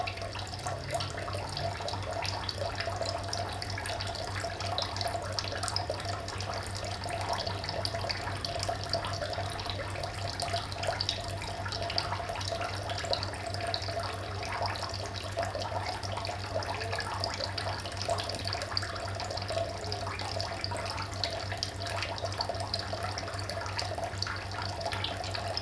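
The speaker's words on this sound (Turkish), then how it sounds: "Şu an 5 litre suyumuz doldu ama" Water runs steadily from the waste outlet of a home water purifier, a continuous faint trickle and hiss with a low hum underneath, unbroken for the whole stretch.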